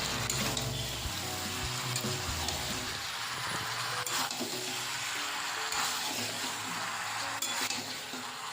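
Chicken fries in its own rendered fat in a pan with little added oil, making a soft, continuous sizzle, with occasional scrapes and clinks of stirring throughout.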